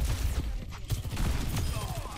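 Rapid gunfire from Overwatch 2 rattles in dense bursts under game noise, with a player's voice faintly in the mix.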